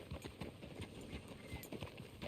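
Horse hooves clip-clop steadily in a Red Dead Redemption 2 game scene, a close, regular rhythm of many hoofbeats on a dirt track under a low, continuous ambient background.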